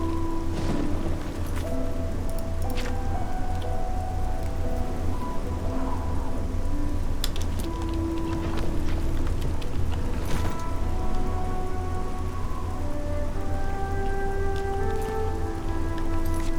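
Steady, dense rain hissing and pattering without pause in The Elder Scrolls IV: Oblivion, with soft rumbles of thunder underneath and no voices.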